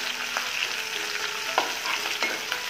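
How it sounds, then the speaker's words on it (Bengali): Chopped onions and green chillies frying in oil with garlic and ginger for chow mein, a steady close sizzle with a few stirring scrapes, and no talking. "রসুন আর আদা কিছুটা হয়ে আসছে, এর ভিতরে আমি পেঁয়াজ কুচিগুলি দিয়ে দিব।"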